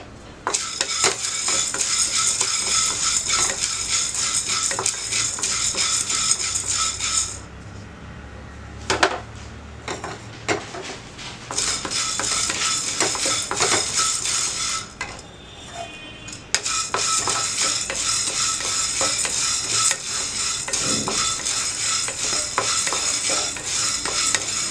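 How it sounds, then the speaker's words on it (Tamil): Whole black peppercorns dry-roast in a pan, stirred continuously with a spatula, giving a loud, steady rattling scrape with brief pauses and knocks as the pan is handled. "மிளகு வறுத்துக்கலாம்"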